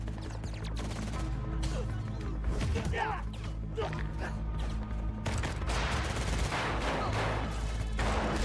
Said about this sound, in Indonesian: Pak Menteri yang menolak ditangkap lebih memilih menyerang hingga terjadilah aksi baku tembak sebelum Feng dan anggota lainnya bergabung.